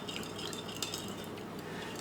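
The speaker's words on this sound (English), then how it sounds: "So I'm gonna give it a stir. You can whisk it if you want to" Turkey jerky marinade being stirred in a bowl, soft scraping and light clinks of a utensil against the dish, quiet and continuous.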